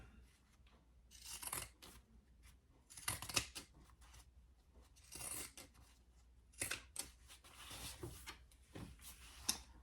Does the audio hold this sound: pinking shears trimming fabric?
yes